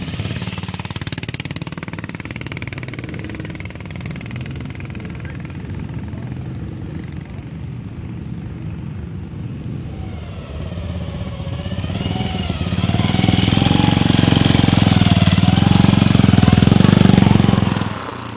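A BSA Gold Star replica motorcycle with no front brake runs its single-cylinder engine at Brooklands, a steady loud thumping idle that swells into a harder, louder rev near the end, close by with no talk.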